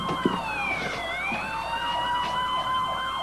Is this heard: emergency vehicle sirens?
yes